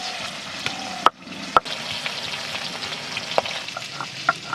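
Pangas fish from a pond frying in a pan, a steady loud sizzle with a few sharp clicks and pops throughout, no voices.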